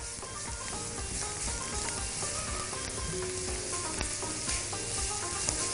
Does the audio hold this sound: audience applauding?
no